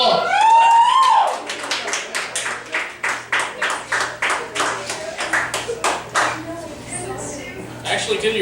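A small audience claps in a sparse, uneven rhythm of distinct handclaps to welcome Daniel Timothy Ballard onstage, close and moderately loud, with a brief whistle or voice at the start.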